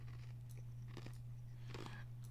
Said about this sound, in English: You hear this ice chewing, dude?